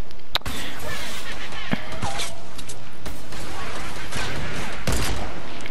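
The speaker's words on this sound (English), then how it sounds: "They're shooting at me." Gunfire in Fortnite from enemies shooting at the player: several sharp shots at irregular intervals, a couple loud and close, others fainter, over busy in-game noise.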